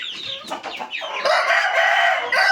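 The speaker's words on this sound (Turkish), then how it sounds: "Şimdi bir de horozlara bakalım" Chickens cluck in short bursts, then a rooster lets out a long, loud crow nearby, with more birds calling around it.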